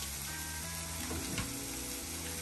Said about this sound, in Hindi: और इसी में हम मिक्स करेंगे थोड़ा ऑलिव ऑयल और इसे हम मेल्ट होने देंगे।